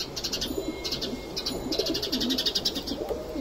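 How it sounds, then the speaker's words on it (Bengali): Pet pigeons, some brooding eggs in a large loft, coo softly and repeatedly at close range, low rolling calls mixed with faint higher chirps and light fluttering. "এই যে আমার কবুতরগুলোকে আপনাদেরকে একটু দেখিয়ে দিই।"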